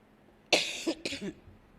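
Someone speaker at a church women's day event coughs twice in quick succession, close and fairly loud, with quiet room tone around it.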